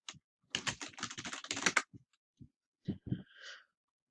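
Quick bursts of keystrokes on a computer keyboard as a Linux update command is entered, a dense flurry of clicks followed by a few separate taps, with a brief faint tone at the end.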